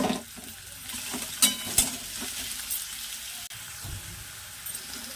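Onion and garlic fry together in a pan for a homemade biryani, giving a steady close sizzle with a few sharper spatula clinks and stirring scrapes.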